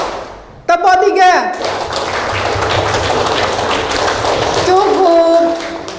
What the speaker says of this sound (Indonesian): tepuk tiga itu tepuk sampai capek ya